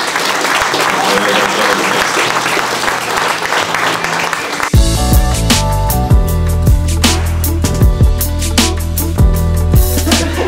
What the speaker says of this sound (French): l'applaudissement pour Simon Delille